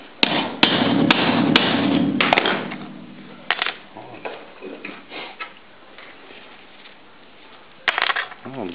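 Repeated sharp hammer blows drive a T-1 knife blade through hard, slightly tempered 3 mm wire, several loud metallic strikes at the start and another near the end, with low voices talking in between.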